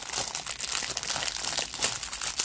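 Yu-Gi-Oh card pack wrapper being torn open, a continuous crisp crinkling and crackling of foil plastic, close and fairly loud for a couple of seconds with no talking.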